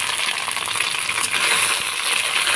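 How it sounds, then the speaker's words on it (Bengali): Bhetkul leaves frying in hot oil, a steady close crackling sizzle with faint stirring scrapes throughout and no talking. "এখানে তেলটা আমার গরম হয়ে গেছে, আমি খাড়কুল পাতাটা কি ভেটকুল পাতাটা দিয়ে দিচ্ছি।"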